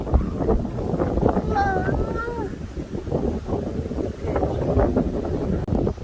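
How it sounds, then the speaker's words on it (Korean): Strong gusting wind on a mountain summit buffets the microphone in rough, constant blasts while people talk excitedly over it. "저 밑에는 확실히 바람이 덜 불었는데 와 대박이야 와 바람 소리"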